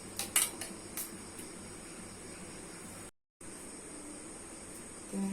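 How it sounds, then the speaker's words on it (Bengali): Eggs being beaten with turmeric powder, salt, chopped onion and chopped tomato for egg paratha, heard as several quick metal clinks and taps against a bowl at the start, then a quiet steady background hum, no talk. "কিছু হলুদ গুঁড়ো লবণ পেঁয়াজ কুচি টমেটো কুচি ফেটে দিতে হবে"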